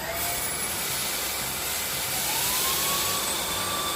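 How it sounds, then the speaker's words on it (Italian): A Xiaomi Mi cordless handheld cyclonic vacuum cleaner whines steadily at high pitch, a loud continuous rushing roar that holds level throughout. "Iniziamo con l'aspirapolvere classica, faccio sia potenza normale che la potenza"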